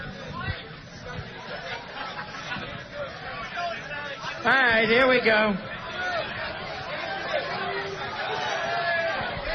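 A crowd chatters in a dense babble of many voices nearby, with one close voice talking over the hubbub.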